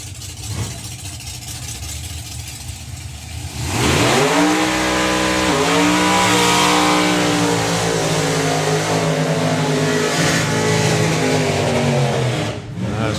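Two hot rod drag cars do burnouts at a drag strip, engines revving hard and loud with rising and falling pitch sweeps after a few seconds of lower idling rumble.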